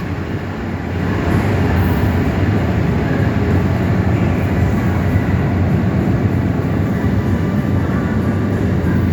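An Amtrak regional train, outbound number 99, passes as a steady, loud broadband roar that swells after the first second and holds close and continuous to the end, with no voices.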